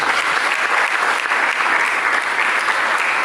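A church congregation applauds during an Indonesian sermon, giving a full, steady wash of clapping from many hands that holds evenly loud for the whole stretch.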